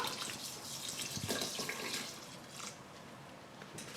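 Water poured from two bottles into a cooking pot of rice for curry goat, a steady, close splashing gush that runs throughout and eases slightly near the end.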